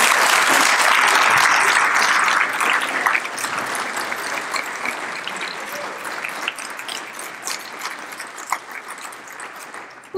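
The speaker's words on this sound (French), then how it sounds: "et on vous applaudit bien fort." A school audience claps for students as they stand up, a loud burst of crowded applause that gradually thins into scattered, uneven clapping with occasional sharper claps standing out.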